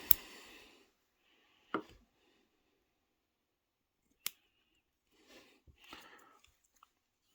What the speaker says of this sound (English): And I'll cut my little taper.